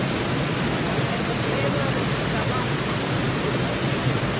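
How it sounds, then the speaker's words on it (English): The Watkins Glen waterfall is heard from behind the falls as a steady, loud, broadband rush of falling water. The roar is close and continuous, and no voices come through it. "And here we are behind the falls. You will get wet, water does drip,"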